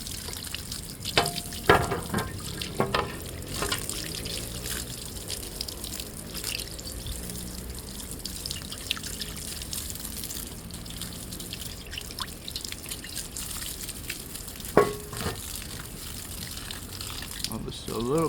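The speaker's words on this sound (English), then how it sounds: "rinse out this sponge." A sponge is rinsed out under running tap water during a Lexus ES300 coolant and transmission fluid service, with steady trickling and splashing water and occasional louder drips and squeezes.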